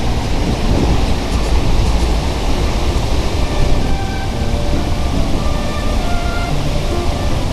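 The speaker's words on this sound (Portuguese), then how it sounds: "Olha só a cachoeira." The Cachoeira do Curuá waterfall in Novo Progresso roars as a loud, dense, continuous rush of falling water, steady and close throughout with no voices.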